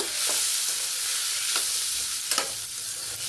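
Flattened samai millet aval is stirred and fried in a kadai, with a constant bright sizzle and occasional scraping strokes of the spoon close at hand, and no voices.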